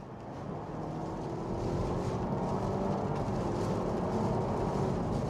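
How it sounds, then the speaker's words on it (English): A 2025 Honda Civic hybrid accelerating as its engine kicks in, a steady low drone heard from the cabin that swells slightly louder and stays even with road noise. "You can hear there, the engine just kicks in where it needs to."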